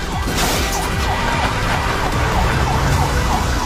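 A loud ambulance siren wails continuously in rising and falling cycles, close by, with traffic noise underneath.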